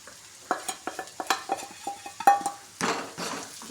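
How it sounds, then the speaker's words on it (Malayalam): Chicken liver is stirred and fried in a pan, giving a run of quick spoon-on-pan scrapes and clinks over a soft sizzle, then a louder burst of frying hiss near the end, close up with no voices. "ഇതെല്ലാം കൂടി ഒന്ന് വഴണ്ട് വരുന്നത് വരെ നന്നായിട്ടൊന്ന് ഇളക്കി കൊടുക്കാം"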